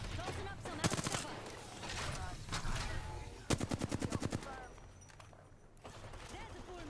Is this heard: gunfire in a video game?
yes